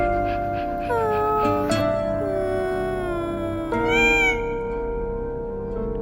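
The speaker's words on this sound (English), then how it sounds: "Her cries were soft, meow, meow, but full of fear" An injured kitten meows in fear, a few drawn-out tonal cries rising and falling close by over a steady low background hum.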